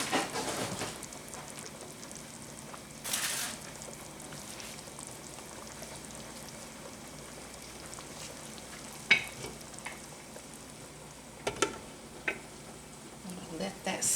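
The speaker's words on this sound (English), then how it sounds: "Let that simmer." Lasagna sauce simmers in a pan with a faint, steady sizzle and soft bubbling, broken by a few sharp utensil clinks.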